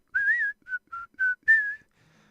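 Someone whistles the opening notes of a Snow White tune, five clear tones, the first and last held longer, close and alone.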